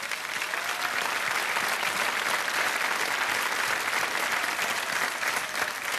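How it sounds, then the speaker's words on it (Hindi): A large audience claps continuously, a dense, even wash of applause that holds steady throughout without any pauses. "तालियां बजती रहनी चाहिए इनके लिए।"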